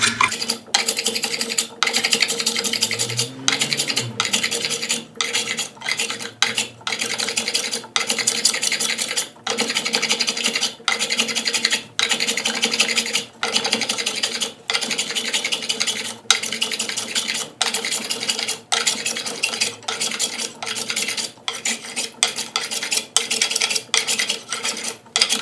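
A wooden pole is carved by hand, with repeated scraping and shaving strokes in a steady rhythm, each stroke a rasping burst close by, continuing without talk.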